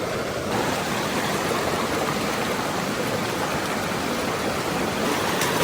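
A stream flowing over rocks along the Bridge to Nowhere hiking trail, a close, steady broadband rush of water that stays even and unbroken from start to finish.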